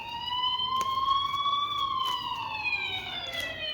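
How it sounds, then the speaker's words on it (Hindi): A police siren wails steadily from a distance, its rising and falling tone faint against a quiet background with no voices. "ये साउंड आप लोगों को कुछ सुनाई दे रहा है जैसे पुलिस सायरन हो कुछ?"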